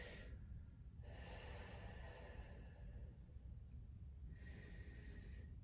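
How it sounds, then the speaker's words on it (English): Slow, deep breaths during a rib cage expansion exercise, with long airy inhales and exhales close to the microphone, quiet against a steady background noise. "We should be able to expand that rib cage, so just keep breathing."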